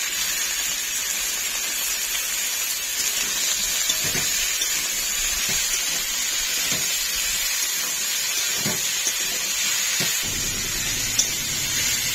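Carrot frying in a pan, giving an even, continuous sizzle and hiss with a few soft stirring knocks, close and fairly loud, with no voices.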